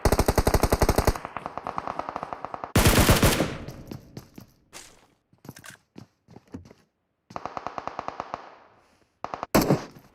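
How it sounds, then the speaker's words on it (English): Gunfire in PUBG Mobile: rapid automatic bursts crackle in several strings, broken by sharp single loud shots and brief pauses, with the volleys stopping and restarting across the span. "Looks like they're shooting down at Hein."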